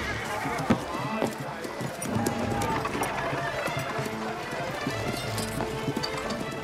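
Horses gallop hard, each carrying two fully armed men, a rapid drumming of hooves at close range beneath a narrating voice that continues throughout.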